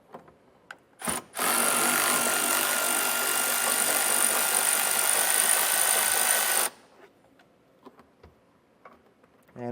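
A 10mm socket on a power driver loosens the plastic nut on a tail light stud of a 2025 Jeep, a steady whirring buzz of about five seconds, close and loud, with brief clicks and handling noises around it.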